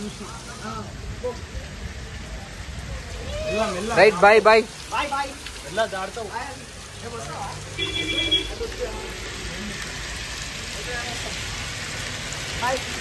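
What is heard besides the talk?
rain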